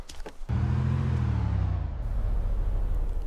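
Car engine in the Arma 2 DayZ Mod video game, a vehicle with gearbox trouble droning too loudly: after a brief noisy start, a heavy, steady low rumble kicks in and holds, loud and close, with a faint whir on top.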